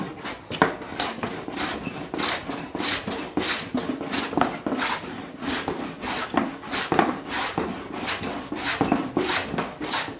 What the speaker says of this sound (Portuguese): Eu quero que você veja a remoção dessa casca com farpas